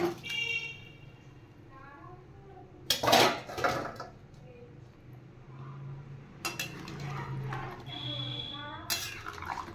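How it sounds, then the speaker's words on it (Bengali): Fried katla fish and potatoes go into a cooking pan, with a couple of sharp metallic clatters of utensil against pan amid softer scraping and someone talking. "এবার আমি ভেজে রাখা মাছ আর আলু দিয়ে দিচ্ছি"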